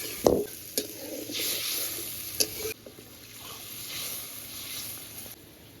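Whole fish going into a bubbling tomato curry gravy in a home kitchen, a steady sizzle and hiss with a few sharp clinks and stirring sounds, close and fairly loud.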